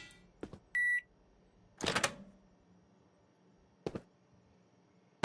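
Microwave oven in a cooking video game: a few scattered clicks and clunks, a short steady electronic beep, then several sharp taps and knocks spread out over a quiet background hum.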